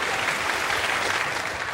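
A studio audience claps steadily throughout, a full, even wash of applause with no voices over it.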